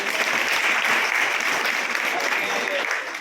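A crowd of attendees at a gathering of teachers claps loudly and continuously for a newly appointed teacher, a thick, even wash of applause that tapers slightly at the end.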